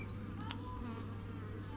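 Honeybees buzz faintly at a hive entrance, with a brief passing buzz or two over a low steady drone.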